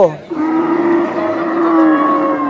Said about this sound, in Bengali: দেখেন এই পাশে একটি গরু আছে